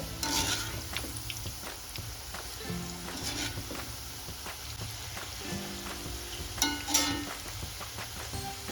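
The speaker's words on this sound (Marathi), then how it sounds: "दोन्ही साईडनी आपण एकदम अगदी व्यवस्थित भाजून घ्यायचंय ब्राऊन कलरवर" Cabbage pakodas (kobi bhaji) frying in hot oil, a steady close sizzle with faint bubbling and a few brief clinks of a utensil turning them, no voices.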